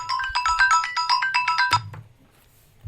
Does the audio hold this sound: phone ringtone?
yes